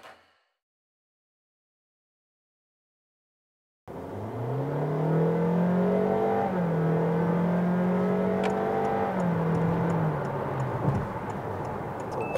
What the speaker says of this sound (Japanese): ハイブリッドの車でブーンブーンって今音しましたけど